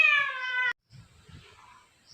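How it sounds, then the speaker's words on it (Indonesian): A domestic cat gives one clear, sustained meow close by, followed by soft faint rustling and light movement noises in a quiet room. "Maaf suara kucing"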